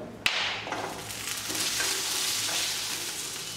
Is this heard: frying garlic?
yes